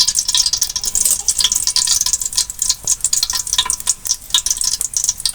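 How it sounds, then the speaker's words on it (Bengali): Whole shahi cumin seeds hit hot white oil for chicken biryani, crackling and sizzling loudly up close in dense, busy bursts with occasional stirring, and no voices. "দিয়ে দিচ্ছি কিছু শাহি জিরা"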